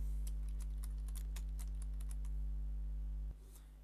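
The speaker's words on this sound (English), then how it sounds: "click search and type in Fruit Ninja" Computer keyboard typing of a game name into a PC search box: a quick run of crisp key clicks over a steady low hum, close and fairly faint, stopping near the end.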